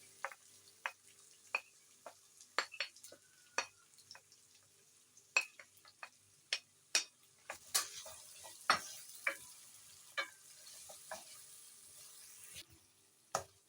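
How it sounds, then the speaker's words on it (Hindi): Chopped onions frying in oil in a pan while cooking degi achar gosht, with soft crackling sizzle and a series of sharp ticks and pops at irregular intervals, fairly quiet, no voices. "इसमें चॉप किया हुआ प्याज डाल देना है"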